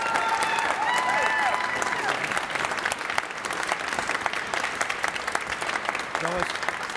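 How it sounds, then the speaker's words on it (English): A crowd applauds the winner of a university business prize competition in a hot, packed room, sustained clapping throughout with faint voices and cheers mixed in, a brief thump near the end. "Let's give her a big round of applause."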